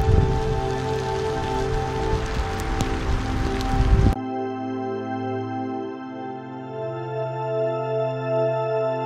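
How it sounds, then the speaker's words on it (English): Rain falls on a campsite at the Grand Canyon as supper is made, a dense steady patter for about four seconds before giving way to a quieter, more tonal hum for the rest. "it's full on raining right now"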